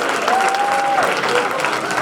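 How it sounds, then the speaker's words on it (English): A crowd at a St. Patrick's Day celebration applauding steadily, dense clapping filling the space for a couple of seconds. "How about a round of applause for Jim Henry, works for Senator DiDomenico,"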